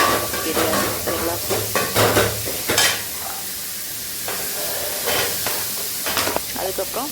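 Rice is stirred in a pot over medium heat in a village kitchen, with scraping spoon strokes and clatter against the pot over a soft steamy sizzle, coming in uneven bursts with pauses between them.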